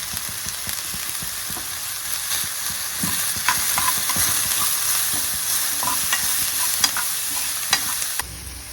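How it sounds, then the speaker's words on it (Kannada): Onions browning in a pan with green chilli and salt added, sizzling steadily while a spoon scrapes and stirs in repeated taps and clicks over roughly nine seconds, close and fairly loud with no talking. "ಈರುಳ್ಳಿ ಬ್ರೌನ್ ಕಲರ್ ಆಗಿ ಚೆನ್ನಾಗಿ ಫ್ರೈ ಆಗಲಿ, ಎಲ್ಲರೂ ಚೆನ್ನಾಗಿ ಫ್ರೈ ಮಾಡ್ಕೊಳ್ಳೋಣ"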